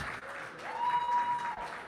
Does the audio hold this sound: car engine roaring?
no